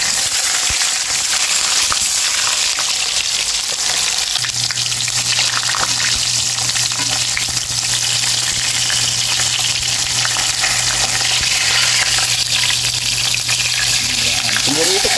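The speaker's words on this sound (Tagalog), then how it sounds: "umpisa natin yan sa pagpiprito sa ating tilapia" Tilapia, scales still on, frying in hot cooking oil with a loud, constant dense sizzle and crackle up close, a steady hum underneath and a voice talking now and then.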